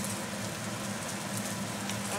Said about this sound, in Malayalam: ഞാൻ ഇനിമേ ഇപ്പം തന്നെ മസാല അങ്ങിടുവാണ്.